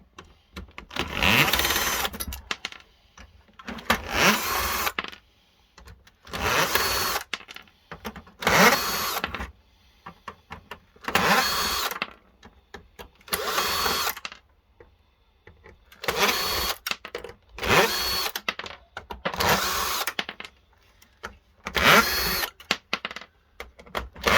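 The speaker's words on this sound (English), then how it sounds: "start undoing all the screws on this" Screws are undone with a power driver while a laser printer is scrapped for metal, giving a regular series of short whirring motor bursts, about a dozen, separated by brief quiet gaps, close up.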